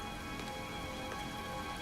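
Rain falls steadily as a soft, even hiss of drops pattering on surfaces, faint and continuous with no voices.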